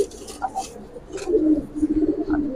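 Giribaz pigeons coo in soft, low, throaty bursts, close by and fairly loud, with a few overlapping calls over a short stretch.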